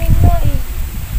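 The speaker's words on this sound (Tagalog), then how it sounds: "Ang hangin, no?" Gusty wind buffets close by in broadband low rumbles during an outdoor summer photo shoot, nearly drowning a voice speaking over it.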